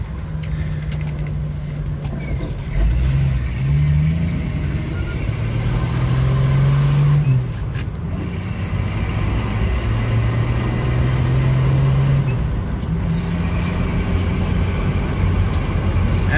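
A 1990 Jeep Wrangler YJ engine hums steadily while driving, revving up and shifting through gears, with a low rumble and road noise throughout.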